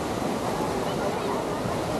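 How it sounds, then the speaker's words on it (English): Ocean waves wash onto Waikiki Beach in Honolulu, a continuous broadband roar of surf mixed with wind, steady and fairly loud throughout with no distinct breaks. "the waves. Like right now."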